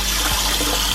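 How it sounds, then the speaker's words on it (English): Cold tap water runs straight into a cooking pot in a steady, loud, close gush. "you're just gonna let some cold water run, and you can just keep it directly in the pan"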